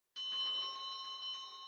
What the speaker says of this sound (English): The bell! I'd better get going.